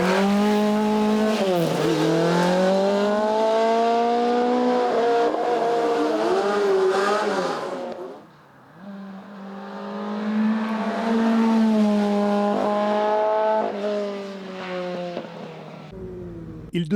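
Adier Barzoï historic rally car engine screaming close and loud, climbing through revs with gear changes, a brief lift off the throttle, then pulling hard again.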